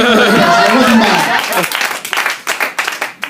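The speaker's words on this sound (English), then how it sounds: "you guys can clap" An audience at a stand-up comedy show claps, a dense burst of applause that thins into scattered claps, following a comedian's voice at the start.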